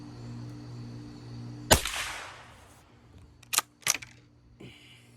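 A .22 LR rifle firing outdoors, three sharp cracks heard: one loud shot followed after a pause by two close quick reports, over a faint steady hum.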